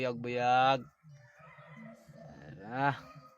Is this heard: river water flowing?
no